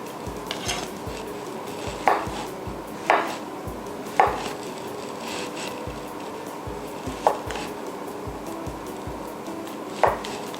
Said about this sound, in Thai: เห็ดฟางก็สไลด์บางๆ เช่นกันค่ะ